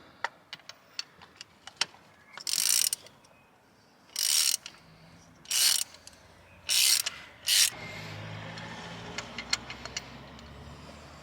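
A ratchet with a 10mm spark plug socket works a spark plug on a Corsa C engine, giving several short bursts of rapid clicking spaced a second or so apart among scattered light taps and clunks, close and fairly loud.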